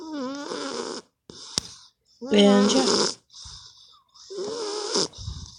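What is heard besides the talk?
dog snoring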